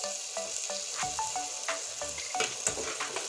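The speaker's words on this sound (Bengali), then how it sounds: "এবার আমি আলুটা তেলের উপরে ছেড়ে দিচ্ছি" Potato pieces frying in hot oil give off a close, steady sizzle, with spatula stirs and clinks against the pan coming at irregular intervals.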